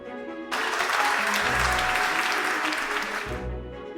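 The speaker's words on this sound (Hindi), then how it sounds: "कुछ सेकंड बीतने के बाद दर्शकों की ओर से जोरदार तालियों की गड़गड़ाहट गूंज उठी।" Loud, dense audience applause erupts suddenly after a song, a thick wall of clapping that holds steady for about three seconds before cutting off, with a low musical tone underneath.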